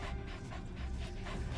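D-Dog, the companion wolf-dog from Metal Gear Solid 5: The Phantom Pain, pants steadily and close up in rapid, rhythmic breaths over low game ambience.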